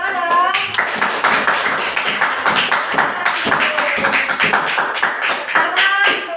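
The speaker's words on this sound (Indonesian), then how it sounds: "Tepuk tangan dong." A sixth-grade class claps hands in a classroom, a dense run of quick, sharp claps from many children lasting the whole stretch, with excited voices and cheering mixed in.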